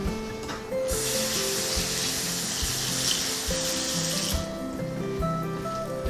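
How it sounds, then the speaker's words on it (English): Tap water poured steadily into a bowl of oats and apples, a continuous close hiss and splash that swells after the first second and then tapers off near the end. "So I'm gonna add some water to this."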